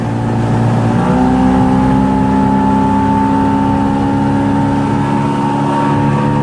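A motorboat engine runs smoothly at about 4,500 revs, a loud, steady droning hum with a slight pitch rise near the start, alone with no talk.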